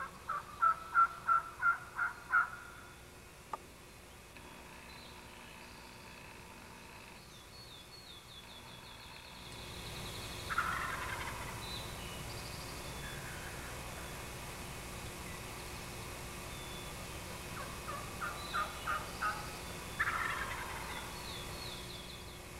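A wild turkey gobbles during a traditional bowhunt outdoors, a rapid rattling burst up close at the start, then fainter gobbles at a distance over steady rain-like background hiss.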